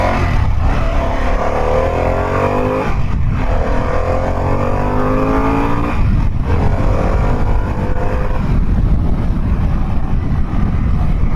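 A 2022 Harley-Davidson Pan America engine rumbles loudly up close, rising in pitch as it is revved several times, with a rushing, wind-buffeted background throughout.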